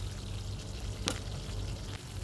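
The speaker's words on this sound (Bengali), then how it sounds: "আর একটু কষিয়ে নেব।" Spice masala sautés in oil for a vegetarian soya gravy, a soft, low sizzle with one brief scrape of stirring midway, faint and close.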